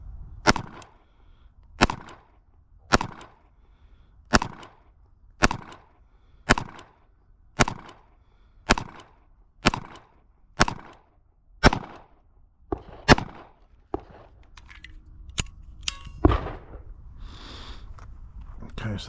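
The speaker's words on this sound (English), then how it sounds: "Okay, so that's 12 shots." Twelve shots from a Ruger LCP Max pistol at a target about ten yards away, loud sharp reports spaced evenly about a second apart, with faint outdoor ambience between them.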